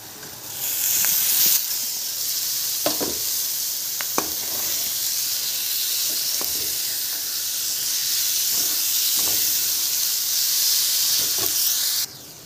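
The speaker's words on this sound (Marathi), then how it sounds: "आता आपण टोमॅटो टाकून घेऊया।" Tomatoes hit a hot pan for a tomato masala chutney, setting off a loud, sustained hissing sizzle that holds steady, with occasional soft clinks of a spoon against the pan, close by and without talk.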